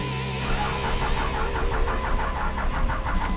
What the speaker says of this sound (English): let's get this beast fired up and head to the local car wash